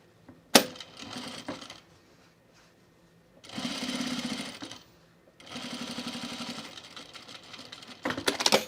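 A sewing machine stitching a blazer lining, two steady running bursts of rapid needle chatter separated by pauses, with clicks and handling noises around them.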